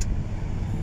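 A car passes along a road in a steady, close, low rumble of engine and tire noise lasting under a second.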